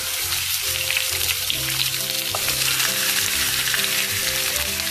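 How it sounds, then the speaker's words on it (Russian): Steady, loud sizzling of lamb shanks frying in a hot pan, continuous crackle and spatter throughout with no voices. "по 2 минуты буквально с каждой стороны жарим голени"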